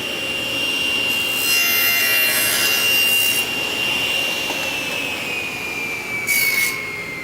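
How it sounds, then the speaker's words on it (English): A table saw fitted with a miter gauge set to 45 degrees cuts straight through a wooden auxiliary fence. A close, loud, sustained blade whine carries bursts of rasping cut noise, with no one talking. "I want to make 1 cut right through my auxiliary fence"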